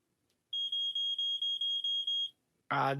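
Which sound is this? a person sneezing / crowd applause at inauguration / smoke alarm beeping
smoke alarm beeping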